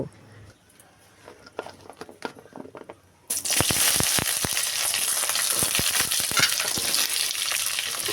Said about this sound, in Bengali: ফোড়ন ভাজা হয়ে গেলে আমি এখানে টমেটোগুলো দিয়ে দেব